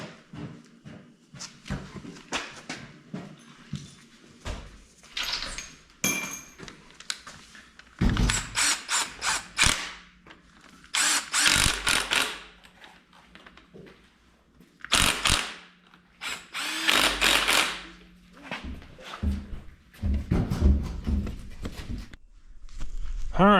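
An impact wrench bolts a new damper onto a junkyard 5.3 LS truck engine, firing in repeated short rattling bursts separated by pauses, with someone talking between them.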